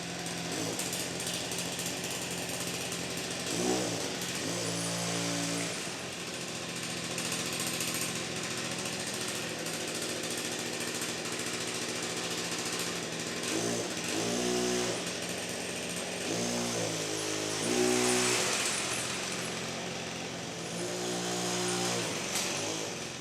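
Small petrol engine of a custom-built RC Ripsaw tank running steadily near the mic, a continuous buzzing drone with repeated brief revving pulses, no talking.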